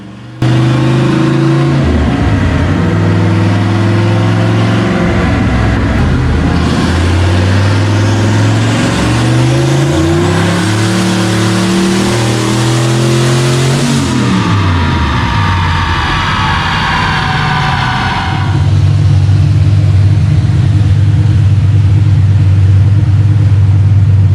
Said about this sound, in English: we decided to head back to the dyno to see what kind of horsepower it could make on the new tune